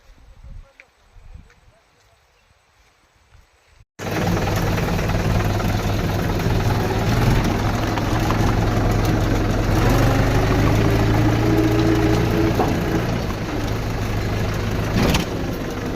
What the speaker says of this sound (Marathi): आमच्या रानात कधी ट्रॅक्टर सरळ जातच नाही,